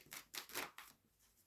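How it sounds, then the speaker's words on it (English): Tarot cards riffle and slap in several quick, soft bursts as a deck is shuffled by hand, close and quiet, fading out after about a second. "I think I just flipped a card right over when I was shuffling then"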